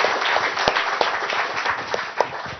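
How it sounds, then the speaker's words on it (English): Audience applause for a conference panel at the end of a session, a steady dense patter of clapping with a few sharper claps standing out, filling the room throughout. "I would suggest we give a big applause to the panel"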